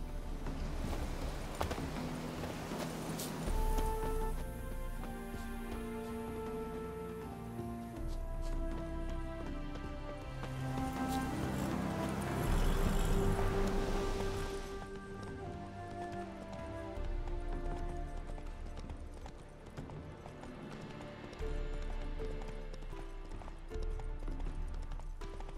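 Roach the horse gallops in The Witcher 3, rhythmic hoof clip-clop running steadily over a continuous game music bed, with a louder swell midway and no talking.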